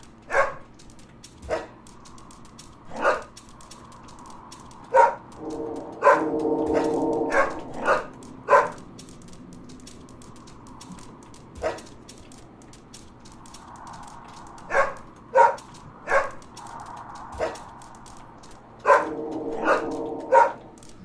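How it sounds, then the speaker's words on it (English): Dog barks in the horror video game Helltown, a series of sharp, fairly loud bursts spaced irregularly over a steady low background hum, some clustered in quick pairs. "So I have to make sure I have to bark like I've never barked before."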